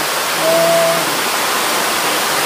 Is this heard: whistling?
no